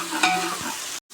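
Masala and washed goat liver and lungs for kaleji are stirred and fried in a pot, giving a close sizzling hiss with a brief spoon scrape, ending abruptly after about a second.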